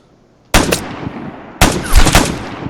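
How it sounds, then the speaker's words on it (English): Two sharp, loud gunshots ring out about a second apart in the Vigor shooter game, each with a decaying echo. The second shot is the fatal headshot, with a splatter-like burst following it. "So you guys heard the splatter when I killed him? That was a headshot."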